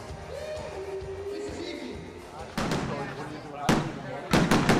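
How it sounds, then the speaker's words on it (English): Fireworks exploding at an evening celebration for Lamborghini's 40th anniversary: several sharp, loud bangs in quick succession near the end, following a stretch of murmuring crowd and ambient noise. "Wow, they even had a fireworks celebration."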